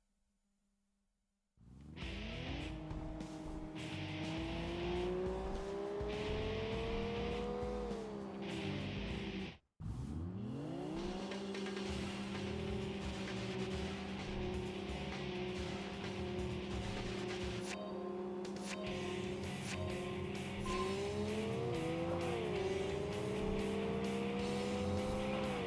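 Race cars in a Wangan Midnight team race roar loudly and continuously, engines rising and falling through gear shifts, with a brief cutout partway through before the revving resumes alongside tire squeal.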